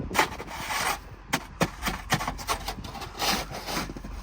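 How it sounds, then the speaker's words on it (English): Plywood is pulled and scraped off the top of a pallet outdoors in snow, with close rubbing, scraping wood sounds and a few sharp knocks, no talking. "We're gonna get this plywood off the top here."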